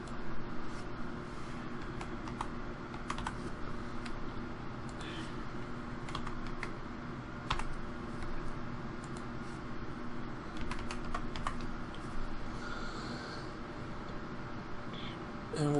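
Steady keyboard typing while entering a computer name during Windows 8 setup, a continuous run of light key clicks with a few louder taps, close and fairly quiet, with faint background hum.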